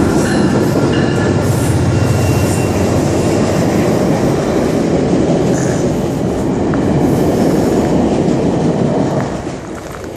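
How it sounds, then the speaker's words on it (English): A passing train roars by close and loud, a steady rumble with wheel clatter and squeal that drops off near the end. "There comes another GO train."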